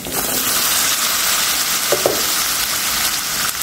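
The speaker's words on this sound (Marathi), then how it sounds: "हिरवी मिरची नेहमी उपासाच्या अशी चांगले तेलामध्ये तुपामध्ये परतून घ्यायची" Green chilies fry in oil and ghee with a loud, constant hissing sizzle and a faint scrape of stirring near the middle.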